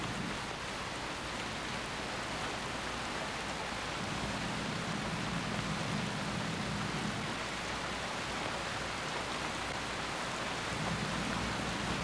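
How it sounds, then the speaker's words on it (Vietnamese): Heavy rain falls steadily as a soft, continuous hiss of downpour, fairly faint and even throughout, with a low hum underneath and no voices. "Mưa lớn vậy làm sao em đi được?"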